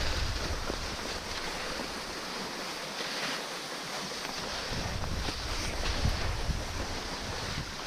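Steady wind rushes and buffets the microphone outdoors on snowy Pallastunturi fell in Finland, a continuous broad roar with no speech.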